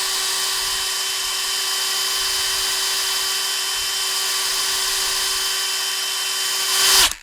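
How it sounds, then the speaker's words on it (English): Drill-driven hone working inside a Land Rover 300Tdi clutch slave cylinder, a loud, steady high-pitched whine held for about seven seconds, close up, then cutting off abruptly. "we're simply going to hone it backwards and forwards"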